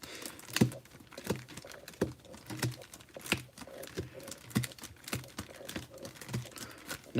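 A deck of Pokémon cards is being shuffled, producing quick, irregular papery flicks and riffles at close range, with soft crinkling between them and no talking.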